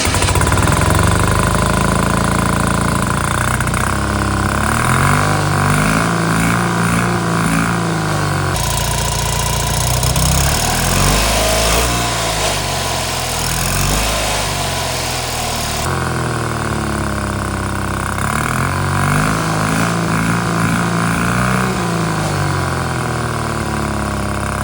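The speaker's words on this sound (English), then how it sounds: "let's start the engine and hear the sound" A Classic Fiat 500 engine with a straight-pipe IMASAF sports exhaust idles and revs with a loud, raspy exhaust note, rising and falling in steady bursts close by.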